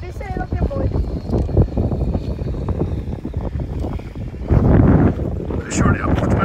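A Joysway Racebird E1 1/14 RC hydrofoil boat runs on open water around buoys, its small motor a faint buzz under heavy wind noise and water sounds, with people talking nearby.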